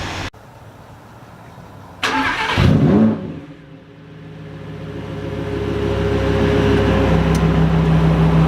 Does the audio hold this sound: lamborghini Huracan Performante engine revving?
yes